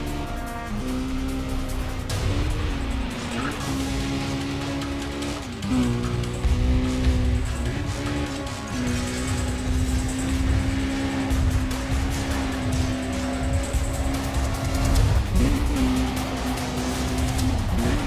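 A brown sports car in a police chase in the video game Need For Speed Undercover, its loud engine revving and droning with pitch rises and shifts, tires squealing at times, continuous and close.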